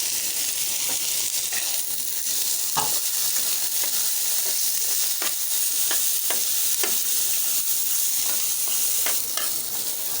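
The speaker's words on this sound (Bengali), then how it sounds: "এখন আমি এর মধ্যে দিয়ে দেব বেগুন, দিয়ে দিচ্ছি লবণ, সামান্য পরিমাণ হলুদের গুঁড়ি" Potato and eggplant frying in a pan after salt and turmeric are added, giving a steady, loud sizzle with scattered stirring clicks and scrapes throughout, no voices.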